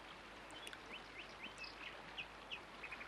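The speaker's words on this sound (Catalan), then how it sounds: "Potser un rossinyol." A small bird sings in short, high chirping phrases, faint and distant over a steady outdoor hiss, repeating every half second or so.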